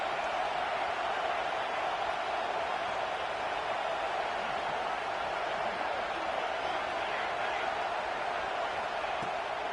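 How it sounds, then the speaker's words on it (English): Steady roar of a large crowd filling a football stadium during a game, a constant dense wash of many voices with no distinct cheers or claps standing out. "This crowd going to try to make life miserable for these guys."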